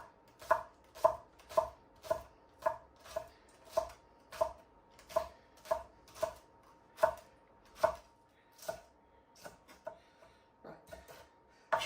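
A knife chops spring onions on a board with a steady rhythm of about twenty crisp, close strokes, gradually slowing and thinning toward the end, with no talking.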